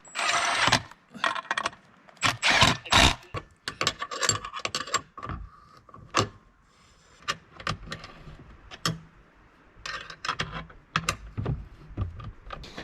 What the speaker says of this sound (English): Literally just screw them right into the pre-drilled holes.